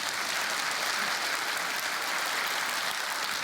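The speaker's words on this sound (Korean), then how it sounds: "박수 한번 칠까요?" A church congregation at Manna Church claps together after a sermon prompt, a soft, even wash of applause that stays uniform and somewhat distant from start to finish.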